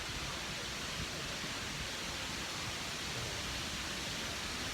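A waterfall in Taiwan roars as a dense, steady broadband rush of falling water, constant and unbroken, heard from fairly close with no distinct voices.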